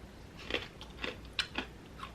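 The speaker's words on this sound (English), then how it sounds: "I'm going to eat the rest of my bacon" Crispy bacon being bitten and chewed close to the mic, with several separate sharp crunches spaced out against a quiet background and no talking.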